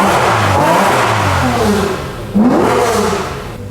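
A Lamborghini Murcielago GT1 race car engine revving hard and loud, rising and falling in two strong surges with a deep roar, heard close and alone.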